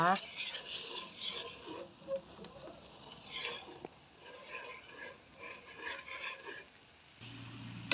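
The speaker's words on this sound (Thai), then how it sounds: "คนไปเรื่อยๆค่ะใจเย็นๆใช้ไฟอ่อนๆนะคะ" Coconut milk simmering over low heat for a green curry is stirred in a pot, giving soft, intermittent scraping and gentle bubbling patter, quiet and close, with brief louder strokes.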